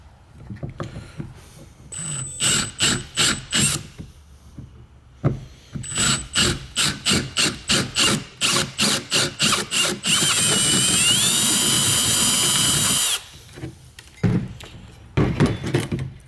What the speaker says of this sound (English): the first step is going to be to drill this